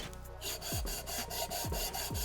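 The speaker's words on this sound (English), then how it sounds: "make sure that you're sanding flat" Rhythmic sanding strokes rasping back and forth on an aluminum RM250 engine case, sanding it flat, several steady passes in a row, close and fairly loud.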